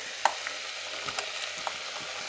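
Breadfruit chunks frying in a pan of tomato masala for a Kerala-style kadachakka curry, a soft steady sizzle with occasional sharp pops and crackles, close and moderately quiet, with no talking.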